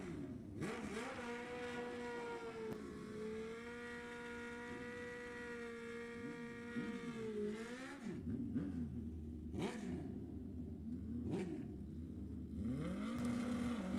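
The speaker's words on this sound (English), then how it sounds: "hear all those little tiny motors" Racing engines at a drag strip bracket race, likely motorcycles, roar loudly and steadily, with pitch sweeps as they rev and accelerate, then a burst of separate rising passes.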